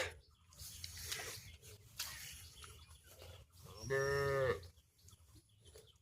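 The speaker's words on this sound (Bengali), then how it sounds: "গরুটা ডাকতেছে তোকে" A cow lets out one loud, drawn-out moo close by at a muddy rice-planting field, amid soft rustling and faint background noise.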